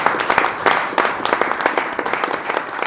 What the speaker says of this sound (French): J'ai demandé à ce qu'on vous applaudisse pour que la tension monte un peu plus